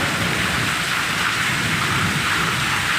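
Heavy rain pouring down on a street, a dense, steady roaring hiss that fills the whole stretch without pause, close and loud.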